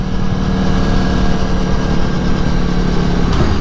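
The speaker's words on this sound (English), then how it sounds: "That damn exhaust, my God." A 2018 Aprilia Tuono V4 motorcycle exhaust gives a loud, steady, close rumbling drone with no pauses or revving peaks.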